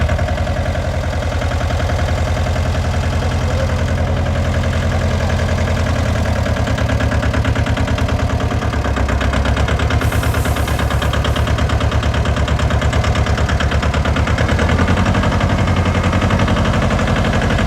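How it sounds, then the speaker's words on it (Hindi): A sanitizing spray machine blasting disinfectant runs loud and steady outdoors, its engine drone and hissing spray holding an even, unbroken level throughout. "देखिए दोस्तों किस तरह से ये सैनिटाइज कर रहा है।"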